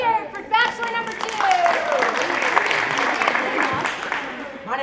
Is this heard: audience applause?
yes